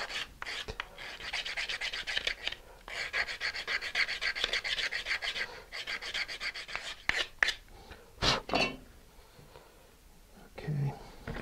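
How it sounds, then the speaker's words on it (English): A model rocket's centering ring has its front edge bevelled by hand, giving steady rasping, rubbing strokes in close, rhythmic bursts, then a few sharper scrapes and pauses toward the end. "I'm going to bevel the front edge of the ring a little bit to help guide it into the tube"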